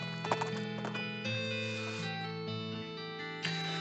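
Horse hooves in the video game Wacky and Wild West, a few light clip-clop steps near the start, then fading under a steady sustained musical tone, with no voices.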